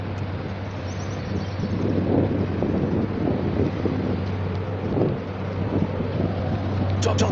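A ferry boat at Dubai Marina rumbles with a steady low engine drone under wind buffeting the microphone and splashing water, fairly loud and close throughout.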